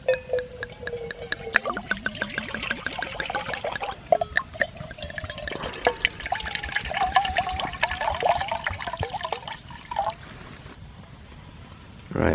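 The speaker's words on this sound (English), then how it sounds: "let's pour" Wine poured into a cup at an outdoor bushcraft camp, a steady liquid trickle with gurgles and drips running for several seconds amid faint rustling of the woodland setting.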